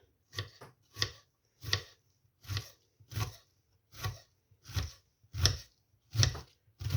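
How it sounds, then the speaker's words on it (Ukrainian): A knife chops onion finely on a board in about a dozen crisp, evenly spaced strokes, each a sharp crunchy thud, close and clear with silence between. "Цибулю кришимо дрібненько."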